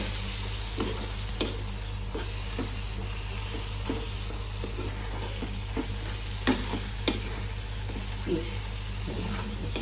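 Coriander and cumin powder sauté in hot oil for a Bengali egg tarka, giving a dense constant sizzle up close while a spatula stirs with frequent light scrapes and taps, without any talking.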